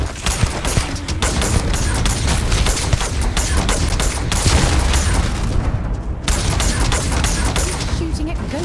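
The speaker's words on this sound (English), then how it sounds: "Shooting at ghosts now." Starfield combat gunfire: dense, rapid bursts of shots and booming impacts crackle continuously and loudly, blending with explosions and game noise, with voices talking over the action.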